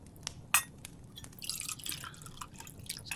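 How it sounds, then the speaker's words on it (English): Hot water poured into a cup to steep tea, with close, quiet drips and trickles, one sharp clink near the start and a brief burst of liquid filling in the middle. "Let's get some hot water in here for you."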